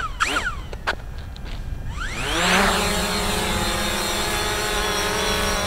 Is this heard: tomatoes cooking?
no